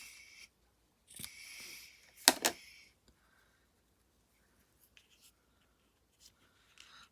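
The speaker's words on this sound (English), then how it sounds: "Grab my snips." Small snips cutting the trimmed end of ribbon on a stamped craft project, a few quiet close crisp snips, then near silence with faint handling sounds.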